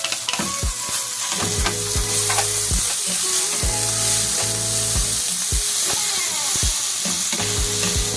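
Tomato and onion sautéing in a pan, with a steady sizzle and repeated scraping stirs at a fairly even rhythm, close and loud, no talking.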